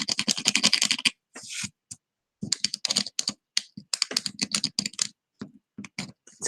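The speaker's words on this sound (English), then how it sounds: "Make sure I get all the plastic scraped off." Plastic residue is scraped off wood-burned pallet wood in repeated short, close strokes, coming in quick dense bursts separated by brief pauses.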